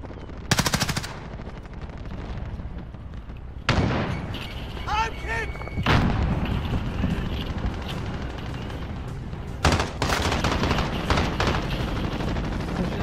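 Gunfire in a Plunder-mode video game: loud bursts of automatic fire and sharp shots in several clusters, with explosive booms and a player talking over the action.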